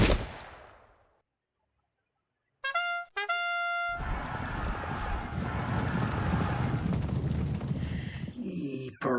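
Cavalry horses gallop with rapid hoofbeats through a busy battle soundscape in the Pike and Shot Campaigns strategy game, set at Adwalton Moor in 1643, after a quiet gap broken by musical tones.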